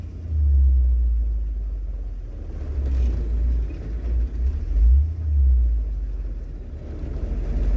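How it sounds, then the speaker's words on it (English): A 1968 Kaiser M715 Jeep pulls away from a stop in third gear, its engine a loud, close, low rumble that swells and dips as it labors and builds speed. "Okay, so that's a third gear takeoff right there"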